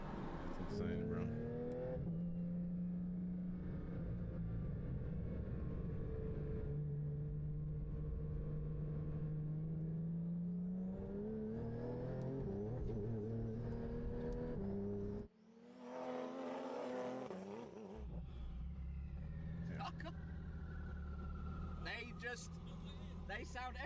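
Sports cars tear around a racetrack, engines revving and pitching up as they accelerate, with one car screaming past close by; people talk excitedly throughout.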